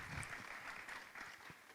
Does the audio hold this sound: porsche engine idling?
no